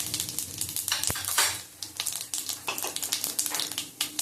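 Bay leaf and whole cumin seeds sizzle in hot oil over a lowered gas flame for a green banana and potato curry, a steady close crackle with scattered sharp pops and a clink of utensil against the pan.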